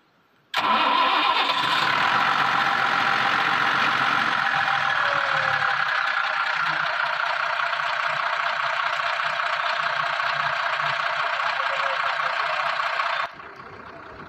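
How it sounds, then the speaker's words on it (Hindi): An Ashok Leyland BS4 diesel truck engine cranks briefly and catches, then runs loud and steady for about twelve seconds before the level drops near the end, with no voices. "स्टार्टिंग एक दो बार क्रैंकिंग किया इसने, उसके बाद हमारी गाड़ी चालू हो चुकी है"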